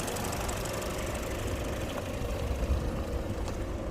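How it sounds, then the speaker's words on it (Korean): The 1600cc gasoline engine of a used, accident-free car with about 80,000 km on it idles steadily at close range. The hum is even, with faint ticking, and no one speaks over it. "지금 8만 킬로대 주행한 무사고 차량 엔진입니다"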